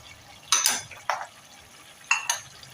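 A spoon scraping and clanking in a pan while stirring potatoes, fried chicken, green chillies and yogurt for aloo chicken: three or four short metallic scrapes and knocks, close and fairly soft, with quiet gaps between.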